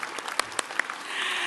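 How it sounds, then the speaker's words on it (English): Applause at an opening ceremony for an Aboriginal art fair begins as a few scattered, separate claps and quickly swells into a denser round of clapping from the audience. "And you've given them a round of applause. One more time."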